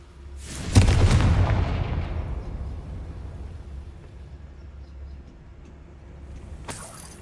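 Confringo blast spell explosion in the Hogwarts Legacy video game: a single deep, loud boom with a rumbling blast that slowly decays over several seconds, then a brief sharp sound near the end.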